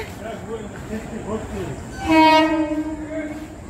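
A loud train horn sounds for about a second and a half after some talking, over the rumble of a train coming in.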